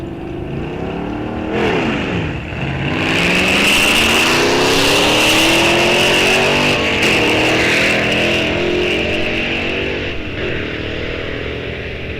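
A Chevrolet Malibu drag car with a 4-speed manual launches at a drag strip, engine revving hard with rising pitch sweeps as it shifts through gears, loud and close, then fading slightly as it pulls away.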